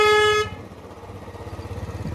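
A loud aftermarket horn on a Royal Enfield Bullet 350 motorcycle blares once for under half a second, then the single-cylinder engine keeps thumping at idle close by.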